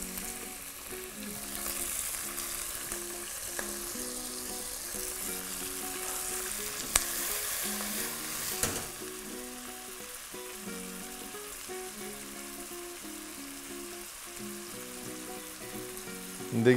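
Tomatoes sizzle and fry in hot oil in a pressure cooker while cooking potato-tomato curry, a constant crackling hiss with occasional sharper pops and stirring clatter.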